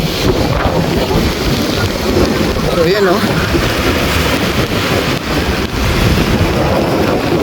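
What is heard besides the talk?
sea waves and wind at the shore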